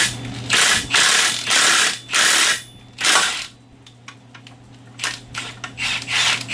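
A ratchet with a 22mm socket turning a primary clutch puller on a 2017 Polaris RZR Turbo, heard as several loud bursts of rapid clicking separated by short pauses, with some lighter clicks near the end.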